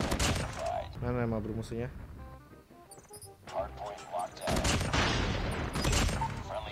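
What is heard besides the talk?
gunfire from video game Call of Duty Mobile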